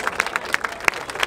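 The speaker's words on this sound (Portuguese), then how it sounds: "Palmas pra essa batalha." Scattered hand claps from an audience at a Brazilian rap battle, the Batalha da Aldeia in Barueri, São Paulo, sounding as a brief, thin burst of irregular claps rather than full applause.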